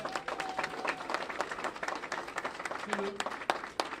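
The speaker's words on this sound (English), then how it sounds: "Give them a round of applause, please." Steady applause from a crowd at an election-night campaign event in Virginia, many hands clapping together in a dense, continuous patter that holds for several seconds, with a few louder claps near the end.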